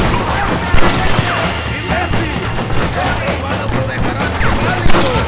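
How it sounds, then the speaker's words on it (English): Chaotic shootout gunfire from the game Red Dead Redemption, rapid overlapping shots and impacts close and loud throughout, with voices shouting amid the battle. "Shoot them, Joe"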